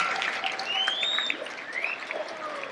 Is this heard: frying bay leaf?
no